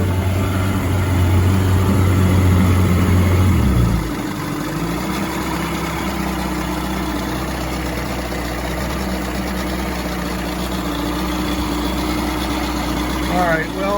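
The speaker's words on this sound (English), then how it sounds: "The engine even sounds better than it did before." A 1989 Mercury 45 hp outboard motor idles loudly and steadily nearby, its low drone dropping to a smoother, lower hum partway through as the speed settles.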